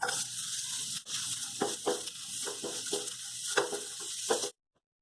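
Bitter gourd frying in a pan, a steady loud sizzle with intermittent crackles and stirring scrapes, cutting off abruptly near the end.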